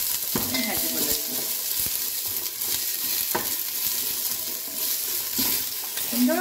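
Two large onions fry in a pan for chicken biryani, giving a steady close sizzle broken by scraping stirs and utensil knocks, with no talking.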